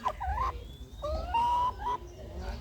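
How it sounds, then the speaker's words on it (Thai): Maha Nakhon fighting chicken hens, imported females, give several close, clear clucks and rising calls in short bursts, with no talk over them. "ไก่ชนนะครับ นี่นะครับ สายมหานครนะครับ"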